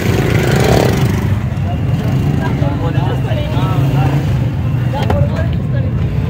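A Suzuki pickup's engine runs at a used-vehicle bazaar, a loud steady low rumble that continues under someone talking.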